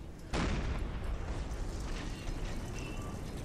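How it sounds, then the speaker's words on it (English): A submarine deck gun in Silent Hunter III shelling a ship's boiler: one sharp blast near the start opens into a long rolling rumble of explosions, fairly faint and distant, with no voices. "Seem to be hitting the boiler repeatedly, causing all kinds of horrible explosions."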